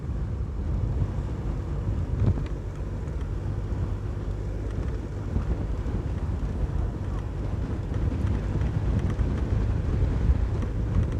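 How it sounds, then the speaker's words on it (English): Strong headwind buffets an outdoor microphone during an elite road cycling race, a constant low rumbling roar that never lets up. "Heavy headwind, folks, heavy headwind."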